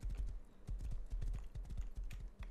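Horse hooves clatter in the survival video game Rust, a quick, steady run of close, crisp clip-clop strikes with no voices over them.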